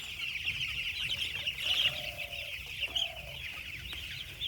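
Chickens on a poultry farm give soft repeated clucks and short calls over a dense, steady background chorus of chirping birds, fairly close.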